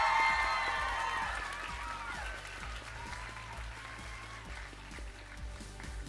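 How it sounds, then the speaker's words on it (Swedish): Audience applause at a cosplay contest, loud at first and fading gradually, with scattered clapping over a low, steady rumble and faint crowd sounds. "En stor applåd för vår dvärg Boford!"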